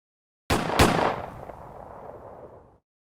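A gunshot sound effect: two sharp blasts in quick succession, then a long, rumbling decay that fades over about two seconds, loud and alone.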